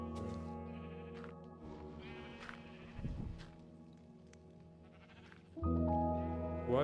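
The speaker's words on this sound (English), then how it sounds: "Why is there about 5 million sheep stuck in this one hole?" Several sheep in a video game bleat in a cluster, overlapping wavering calls, one louder bleat breaking in near the end, without speech.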